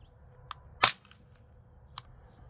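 A single muffled shot of CCI standard velocity .22 ammunition is fired through an Enfield Rifle Company Novus suppressor fitted with 9mm baffles. The sharp suppressed pop is flanked by faint mechanical clicks, with no talking.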